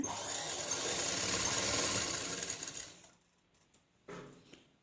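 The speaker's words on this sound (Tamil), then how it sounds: "நேராக தையல் ஓட்ட வேண்டியது தான்" A sewing machine runs steadily for about three seconds while stitching churidar pants, then stops, followed by a brief second burst of running.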